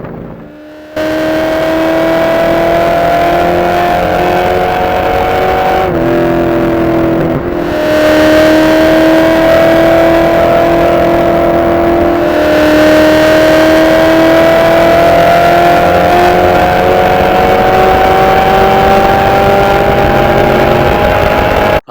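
A Ford Fairmont race car at High Plains Raceway accelerates loudly from inside the cabin, engine pitch climbing through the gears with short dips at each shift.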